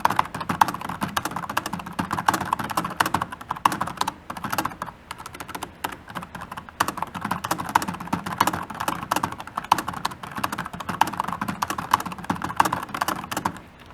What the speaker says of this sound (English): it's a nice tactile feeling keyboard with an alarmingly loud sound